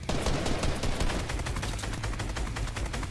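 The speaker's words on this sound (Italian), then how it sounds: "Mi sparano da là." Gunfire in the video game Fortnite: a dense, loud stream of rapid shots and overlapping bursts rattles continuously, like automatic weapons firing in quick succession.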